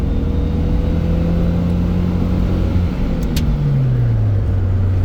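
A truck with a bad slave cylinder drives with a steady close engine drone, and midway the pitch falls smoothly as it shifts from second gear straight into fourth.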